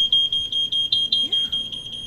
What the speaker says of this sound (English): Your smoke alarm will go off with a loud sound.